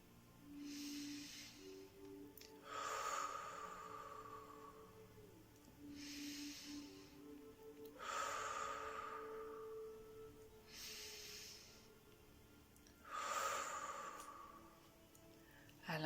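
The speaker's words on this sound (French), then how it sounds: "J'effectue plusieurs respirations profondes." Slow, deep breaths during a guided meditation, with four or five long airy inhales and exhales rising and falling in a quiet room, soft and close.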